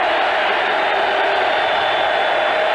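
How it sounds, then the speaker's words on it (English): Steady, dense crowd roar from a packed stadium during a 1990 NFL game between the Broncos and the Chiefs, a continuous broadband wash of noise with no distinct cheers or voices standing out. "Now the crowd getting into the game"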